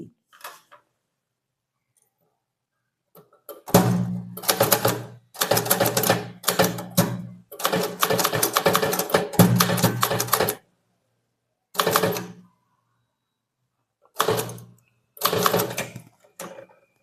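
Keys clatter as an official demi-official letter is typed, in irregular bursts of fast keystrokes separated by pauses and silences. The typing is close and crisp, and no one speaks.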